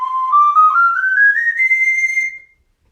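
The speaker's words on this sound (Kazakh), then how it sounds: "Бұл аспаптар мендегі жасалатын түрі мынау құс сайрауықтың лядан ляға дейін." A Kazakh clay bird-song whistle, the qus sairauyq sazsyrnai, plays one loud, clear, sustained tone that glides steadily upward with slight warbles, then cuts off into silence.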